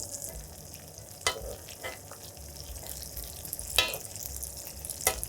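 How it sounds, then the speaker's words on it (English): Chili lime glaze spooned over salmon fillets in a hot pan, giving a steady soft sizzle with a few brief louder splashes and scrapes from the spoon. "now I'm just gonna take some of it, spoon it right over the top of the salmon"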